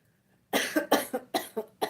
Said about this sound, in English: And I still have that cough.